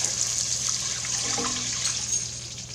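Broth poured steadily into a pot for butternut squash soup, a continuous close liquid splashing and rushing sound throughout.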